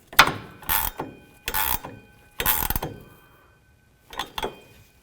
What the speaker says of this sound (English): you would use your 17mm ratchet wrench right up top here